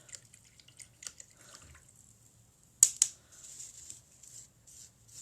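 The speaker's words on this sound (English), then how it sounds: "we're going to wash off that brush" A paintbrush is rinsed in a water container after rock painting, giving soft drips and a couple of sharp splashy clinks against the container, then light trickling, faint and close in a quiet room.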